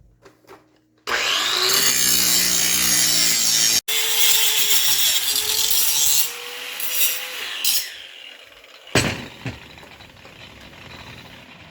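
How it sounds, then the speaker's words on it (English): Steel blade for a kindling splitter being ground with a power grinder, loud continuous abrasive whine with a rising pitch, briefly cut off then resuming, easing and stopping, followed by a short scraping rub at the end. "now that we got our piece clamped down, now it's just time for lots of grinding"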